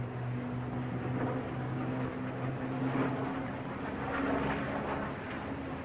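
A Supermarine Spitfire I with a Rolls-Royce Merlin engine drones steadily with a deep, rumbling engine note at the 1977 White Waltham air show, its pitch shifting slightly as it passes.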